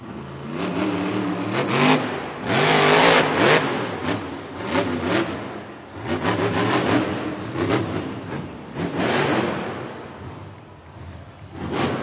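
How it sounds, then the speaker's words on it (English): Grave Digger monster truck at a stadium Monster Jam event in Cleveland roaring up a ramp and launching, its engine surging loud and rough in waves, with crowd and arena noise around it. "Tyler Menega hitting that ramp and taking to the skies."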